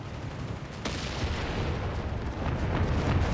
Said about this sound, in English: Artillery's coming in this sector as the British push